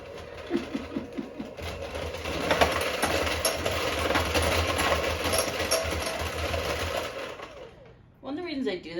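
An electric mixer whizzes half a cup of butter for a gluten-free devil's food cookie filling, a steady buzzing motor whir that starts with a few short pulses and stops abruptly near the end, followed by a voice.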